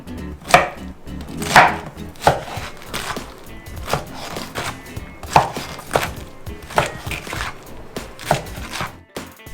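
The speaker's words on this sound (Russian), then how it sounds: "И нарезаем все на кубики." Rapid, close knife chops dicing pineapple into cubes on a cutting board, a dozen or so sharp knocks in a brisk, slightly irregular rhythm.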